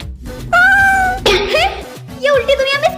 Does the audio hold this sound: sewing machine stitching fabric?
no